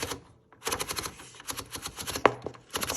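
Paper goes into a 1939 Remington Remette portable typewriter with a quick run of close, dry clicks and ratchety platen ticks, then a sharper snap near the end.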